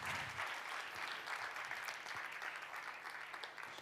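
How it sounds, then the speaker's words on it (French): A conference audience applauds a speaker, a sustained wash of many hands clapping, fairly distant and quiet, continuing evenly throughout. "On peut l'applaudir très fort."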